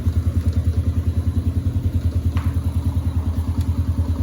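A 2006 Honda Supra Fit motorcycle engine idles up close, a loud, even pulsing putter with a regular rhythm and a faint clatter throughout.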